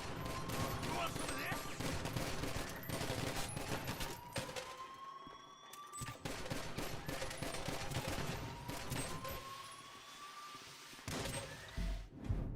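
Chaotic GTA Online gameplay full of dense, loud video-game gunfire, including shotgun blasts and sustained bursts, mixed with sirens and crashes, while players talk over the action.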